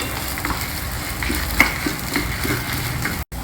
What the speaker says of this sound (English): I am adding 2 and about 3 to 4 spicy red chilies, and roast everything together well